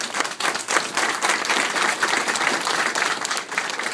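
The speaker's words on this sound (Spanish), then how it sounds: "un fuerte aplauso para la señora" Crowd applause at a Santa Cecilia celebration party, steady dense clapping filling the space throughout, fairly loud and close.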